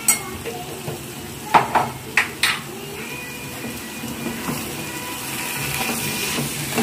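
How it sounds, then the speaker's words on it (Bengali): Beef frying with a spoonful of cumin powder, stirred in a pan, giving a steady sizzle with a few sharp spatula scrapes and knocks near the start. "একটু ভাজা ভাজা করে নিচ্ছি"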